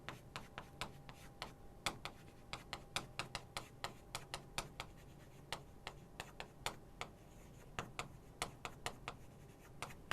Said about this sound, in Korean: 여기다 써볼게요